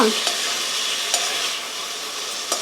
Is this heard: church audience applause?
no